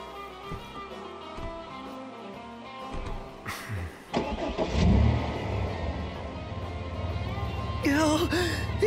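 A car engine in Final Fantasy XV turns over and catches partway through, rising to a steady mid-pitched running hum that continues beneath game music and effects, with a brief vocal gasp near the start.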